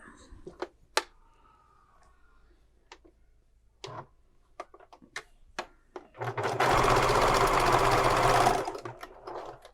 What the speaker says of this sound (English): I just sewed that together to keep everything in place for later.